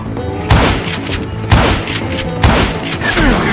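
Gunfire cracks out in Call of Juarez Gunslinger, three loud, evenly spaced shots, each booming and echoing briefly over a low rumbling background.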